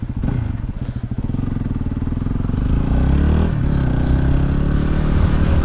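A Yamaha WR250R dual sport motorcycle cruising, its single-cylinder engine thumping close and loud, climbing into a heavier sustained drone with wind rush.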